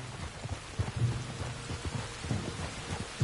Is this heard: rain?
yes